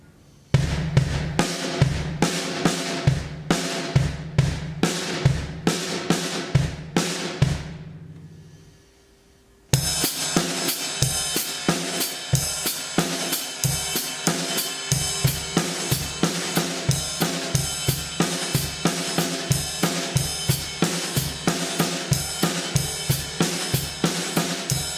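Paradiddle sticking with the double stroke moved to the start of the figure, played as an independence exercise on drums; steady loud hits with a brief quieter pause near the middle, then a dense, even groove resuming.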